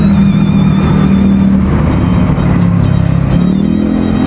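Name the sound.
Honda Click 125 scooter engine running and vibrating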